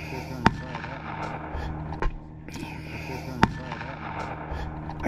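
A WWI Stokes mortar team fires high-explosive rounds into German trenches at night, three sharp distant booms spaced about one to three seconds apart over quiet murmured talk.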